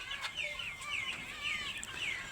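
Broiler and sonali chickens at a wholesale poultry market in Dhaka give a quick run of bright, chirping clucks, fairly close and moderately loud over a low background.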